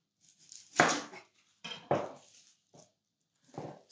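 A knife chops food on a chopping board in a home kitchen, four separate knocks spaced irregularly with quiet gaps between, close and fairly soft, with no talking.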